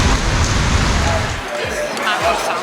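Heavy monsoon-season rain pours outside a hotel in Singapore, a dense, loud wash of noise that thins slightly partway through, with people talking over it.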